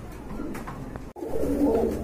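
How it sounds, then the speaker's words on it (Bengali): Large Indian Bombay pigeons coo in a pair, soft throaty calls that come and go and swell louder after a brief gap, close by. "আরেক জোড়া কবুতর দেখতে পাচ্ছেন বোম্বাই বিগ সাইজের"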